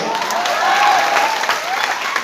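Audience applause at a speech event in Patna, a dense steady wash of many hands clapping close and loud for about two seconds.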